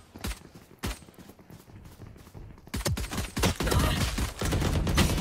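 Gunfire in the Valorant video game, with scattered single shots early on followed by dense, rapid bursts of automatic fire that grow louder and more continuous toward the end.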